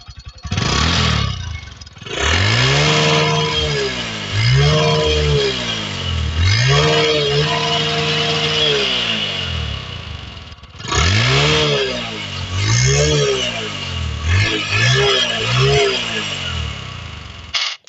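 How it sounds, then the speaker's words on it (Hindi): A Bajaj Discover 100M motorcycle revved through its exhaust, several rising and falling throttle blips in a row with a brief pause midway, loud and close. "अब आपको सुनाते हैं इसका साउंड कैसा आता है।"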